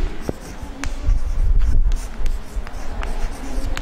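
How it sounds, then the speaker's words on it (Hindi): Pen or chalk writing out a geometry theorem statement, continuous close scratching strokes with short pauses between words and no speech. "हम थेल्स के प्रमेय को पहले उसका स्टेटमेंट लिखते हैं।"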